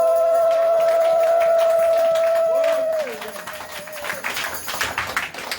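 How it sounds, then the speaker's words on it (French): A church congregation claps and cheers after a sustained tone fades, and the burst of acclaim grows and stays loud and dense in the room. "Est-ce que quelqu'un peut me donner des grands acclamations?"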